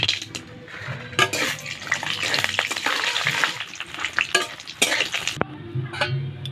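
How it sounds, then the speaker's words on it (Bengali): Papad fries in hot oil in a kadai, giving a steady, busy crackle and sizzle with sharp scrapes and knocks against the pan. "পাঁপড় ভেজে নিচ্ছি।"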